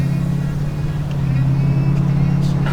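A pickup truck on new 24-inch wheels with 375/40 tires cruises along, its steady low engine and road drone continuous and close, with a voice speaking over it.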